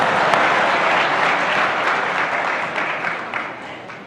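An audience claps together during a religious discourse by Pujya Bhadreshdas Swami, producing a dense, even patter of many hands that starts loud and slowly fades over a few seconds.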